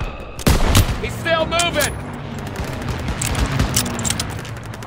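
Gunfire in Call of Duty WW2, a loud close burst of shots at the start, then rumbling battle noise and distant firing as someone shouts over it.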